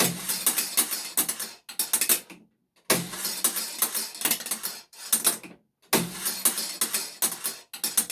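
A 1954 Wondermatics coin-operated penny arcade machine runs its mechanism in loud clattering, ratcheting bursts, three long runs separated by short silent gaps, close up with no talk.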